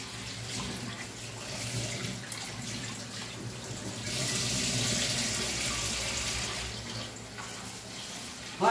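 Rice rinsed by hand under a running kitchen tap, a steady close splashing stream of water that swells louder midway, then settles.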